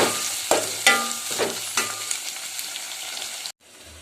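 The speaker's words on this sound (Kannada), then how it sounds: "ಒಂದು ಎರಡು ನಿಮಿಷ ಲೋ ಫ್ಲೇಮಲ್ಲಿ ಕ್ಲೀನಾಗಿ ಬೇಯಿಸ್ಕೋಬೇಕು" Fenugreek leaves and tomato cook on a low flame with a close, steady sizzle. Repeated scraping thumps of stirring in the pan sound over it, then it cuts off abruptly near the end.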